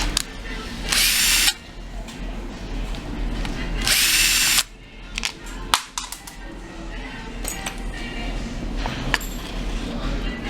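A power drill backing screws out of the fender housing on an Inokim scooter, two loud, close whirring bursts of about a second each, followed by small clinks and handling noise.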